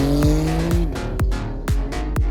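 A tuned Toyota Supra race car of about 800 hp on a track: a loud, close engine roar with rapid rising whines and repeated sharp gear-change drops, alone without talk.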